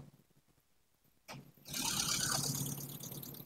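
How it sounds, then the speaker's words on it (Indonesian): A used sedan's engine turns over and settles into a steady, fairly loud idle in an open engine bay, following a quieter stretch with faint background noise. "Keadaan nyala nih mesinnya, teman-teman."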